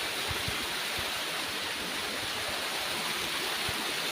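A forest waterfall rushes in a steady, dense, close roar of falling water, unbroken throughout with no voices.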